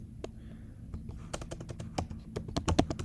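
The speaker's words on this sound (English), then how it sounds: "So I'll type in toluene." Fingers typing on a computer keyboard, sharp close key taps in irregular bursts that grow quicker and more crowded toward the end, over a low background hum with no speech.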